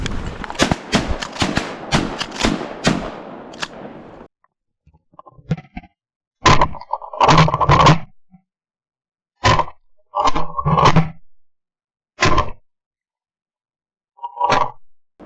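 Shotgun blasts at ducks on Arkansas public land, heard as several sharp, loud cracks spaced irregularly after a stretch of busy outdoor noise, with quiet gaps between shots.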